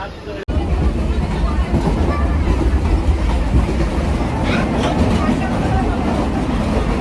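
Continuous rumbling train noise from inside a moving women-only carriage, with steady rattling and a murmur of voices underneath, fairly loud and close.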